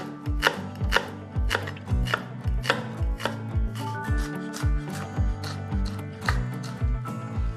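A knife finely chops a white onion on a board, producing quick, crisp, evenly spaced blade strikes in a steady rhythm, close and clear with no talk.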